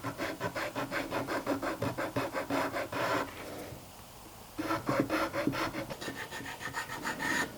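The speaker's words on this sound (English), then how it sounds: "basically I just put a small little bevel in the top of each of the fret slots" Steady rhythmic rasping of a file cutting small bevels into the fret slots of a wooden guitar fretboard, close and even strokes with a short pause before the filing resumes.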